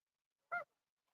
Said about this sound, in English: Look at all them silly geese over there